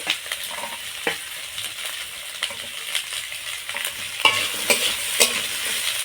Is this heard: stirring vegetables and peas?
yes